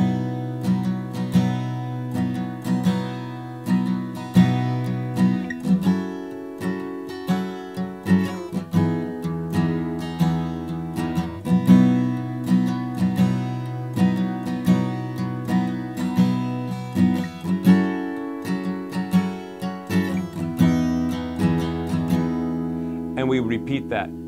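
Acoustic guitar strums the three verse chords of a song in a steady, repeating pattern with bright regular strokes, played alone at moderate volume.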